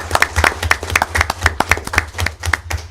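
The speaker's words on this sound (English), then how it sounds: "how about one more round of applause for all of our retirees?" A school board public meeting audience gives retiring school staff a round of applause, a small group clapping with distinct, uneven individual claps, close and fairly loud, with no talking over it.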